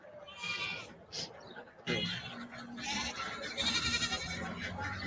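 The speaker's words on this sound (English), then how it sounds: "working with the animals, especially the goats" Goats on a farm bleating several times, loud and close, with one sharp cry partway through and others overlapping, while a person talks underneath.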